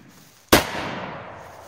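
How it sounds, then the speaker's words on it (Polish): A Carbon P1231 firecracker explodes under a pot with one sharp, loud bang, followed by a fading rumble and decay. "petarda wyskoczyła spod garka"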